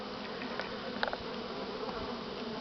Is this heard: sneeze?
no